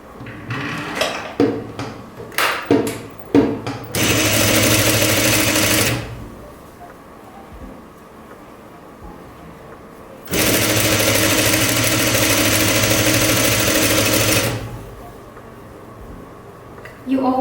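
A sewing machine stitches a twice-folded elastic casing on a jumpsuit, running in two loud, steady bursts of about two and four seconds, separated by quieter handling clatter and a pause.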